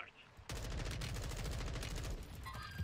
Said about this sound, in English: that was me shooting at him?